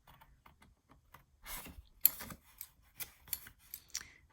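Scissors snip through single-sided patterned paper for a mini scrapbook album, a quick run of close, crisp cuts with short pauses between strokes and no talking.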